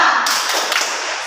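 Schoolchildren in a classroom clap in unison during a rhythmic motivational chant, a loud, dense flurry of hand claps heard close and steady after a short vocal lead-in.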